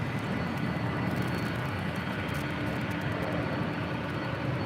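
A jet airliner going around on the south side of LAX, a steady, broad engine roar that holds at an even level throughout without any talk.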